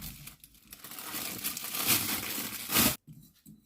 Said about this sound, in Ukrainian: Тепер закладаємо у целофановий пакетик, ось такий е, бажано прозорий.